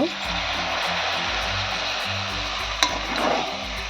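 Water poured into a pan of sizzling sago khichuri, a loud steady hiss and frying crackle with a sharp clink partway through, while a voice speaks over it.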